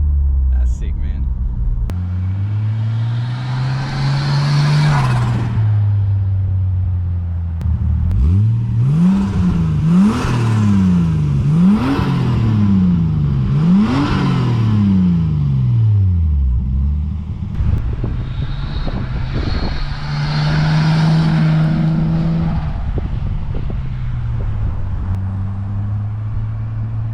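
A Nissan Skyline with a full HKS Hi-Power exhaust and JJR front pipe passes on a dead-end road, engine note swelling and fading. In the middle a run of rapid, loud revs or gear pulls gives a deep, rising-and-falling drone.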